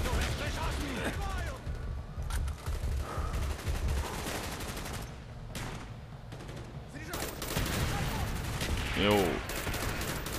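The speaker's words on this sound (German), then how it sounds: "Die schießen ja alle auf mich, ey." Gunfire from several shooters in Call of Duty Black Ops, dense bursts and rapid shots running throughout under someone talking, with a louder burst near the end.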